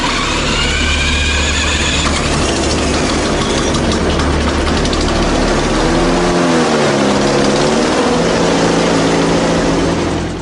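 A running engine targeted by an electromagnetic pulse generator drones loudly and continuously, its steady tone wavering and dipping in pitch partway through.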